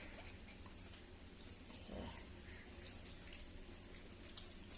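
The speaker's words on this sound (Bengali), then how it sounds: "কিরকম জল পড়ছে?" Water runs from a tap in a kitchen as a faint, continuous stream with soft splashing, fairly distant and steady throughout.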